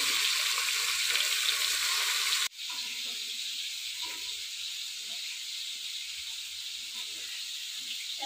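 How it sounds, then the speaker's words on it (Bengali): Catla fish frying in oil in a pan, a broad steady sizzle that cuts off sharply partway through and then settles into a quieter hiss with faint clinks. "মাছগুলো ভাজা হয়ে গেছে"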